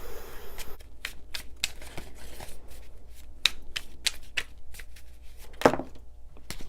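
Tarot cards shuffled and pulled from the deck: a series of sharp, dry snaps and riffles at irregular intervals, close and fairly quiet, alone with no voice.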